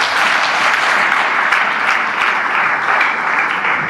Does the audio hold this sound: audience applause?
yes